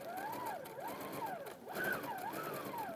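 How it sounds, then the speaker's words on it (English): A sewing machine runs a line of gathering stitches, its motor whirring in smooth rising and falling sweeps with a brief pause midway, steady and fairly close. "So we start our first line of gathering stitching"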